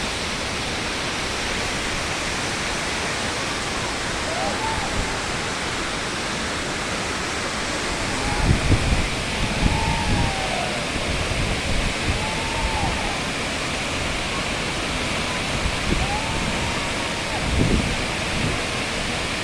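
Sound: Tarabu waterfall roaring and splashing

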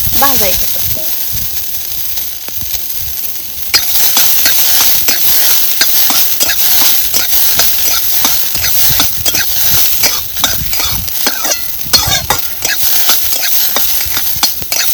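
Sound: roasting sarata (Tribulus) vegetable in oil in a pan

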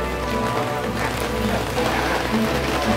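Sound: rain falling outside

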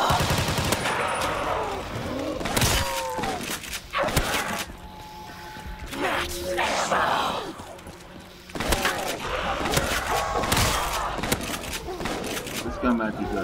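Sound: shotgun fire in Call of Duty BO3 zombies video game

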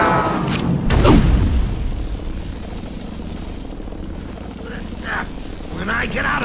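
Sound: helicopter (Jack Ryder's chopper) in video game Batman: Arkham Asylum

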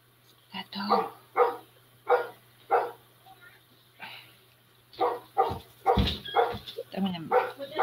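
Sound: dog barking

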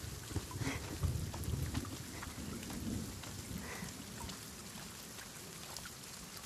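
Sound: sudden rain with thunder

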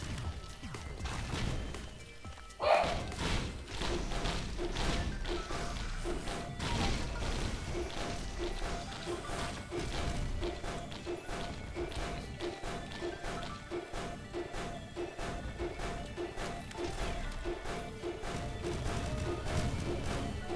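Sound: bomb explosions in video game Risk of Rain

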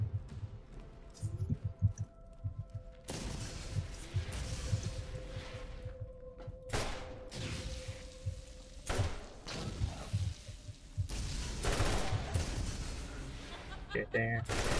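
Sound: modded weapon firing at enemies in Borderlands video game

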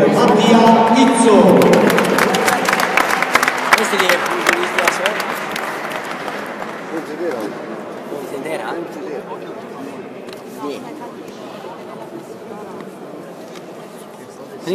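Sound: audience applause

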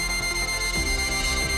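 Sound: low-battery beeping of a Godrej Advantis digital lock

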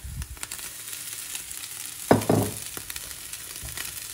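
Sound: egg frying in a pan with green peas and rice

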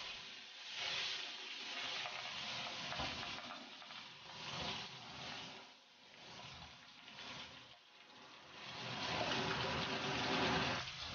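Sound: grass carp fish steaks pan-frying in oil

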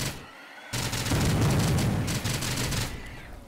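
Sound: machine gun firing in the video game STRAFE

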